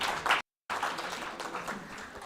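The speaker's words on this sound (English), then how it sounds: "so give a big round of applause for him" A round of applause at a regional health summit session for the session chair, short and moderately faint, cut by a brief gap of silence before the clapping resumes and fades.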